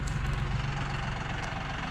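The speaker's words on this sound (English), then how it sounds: "Nice little Ranger, doing its job." A Ranger utility vehicle's engine idles steadily at a ranch, a close, continuous low rumble with no talking.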